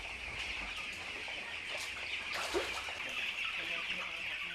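Chickens in a coop at a floating farm in Bangladesh, set over a fish pond, cluck steadily as a flock, moderately near, with faint broadband ambience and a few louder individual calls.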